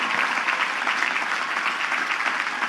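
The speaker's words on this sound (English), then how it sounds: "let's give them a big, big round of applause and thank them for their service" Sustained applause from a large commencement audience honoring veterans, a dense, even wash of many hands clapping that holds steady throughout.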